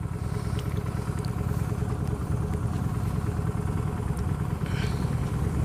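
A Honda Shadow 750 motorcycle engine idles close by with a steady, low, rhythmic chugging and a faint mechanical clatter over it, running evenly throughout.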